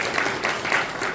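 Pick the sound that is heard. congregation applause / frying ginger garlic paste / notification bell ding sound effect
congregation applause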